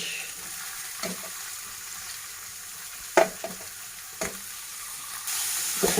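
Carrot, cauliflower, cabbage, spring onion and capsicum stir-frying over medium flame for veg fried rice, a continuous sizzle broken by a few sharp clanks of a spoon against the pan.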